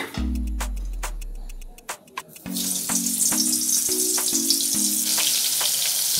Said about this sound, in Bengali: তেলে পটলগুলো ভাজা হচ্ছে হোক